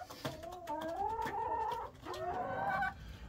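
Chickens sunning themselves let out drawn-out, wavering clucking calls, two long rising and falling vocalizations close by and fairly loud.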